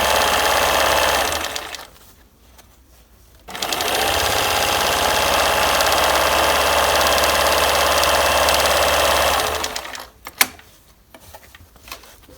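Bernina 730 sewing machine running steadily while stitching and folding over a fabric edge, a continuous mechanical whir that stops for about two seconds, resumes for a long stretch, then halts with a click.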